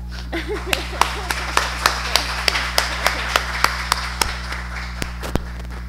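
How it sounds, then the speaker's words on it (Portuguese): Slow, evenly spaced claps at an academic seminar on identity and plurilingualism in Mozambique, a handful of sharp near claps over a steady low hum, with a brief voice at the start. "um aplauso para a professora Sarita Monjane para começar"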